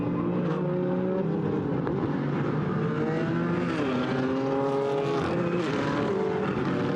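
GT4 race cars, a McLaren and a BMW, run at Paul Ricard with steady engine drone and shifting revs that rise and fall as they pass, continuous and moderately loud with a brief word of commentary.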